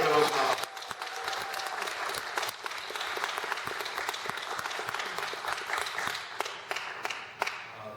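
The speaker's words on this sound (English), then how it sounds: "Can we give Katie a big round of applause?" Audience at a film festival Q&A panel applauds, a dense burst of clapping that swells at the start, holds steady, then thins into scattered claps near the end.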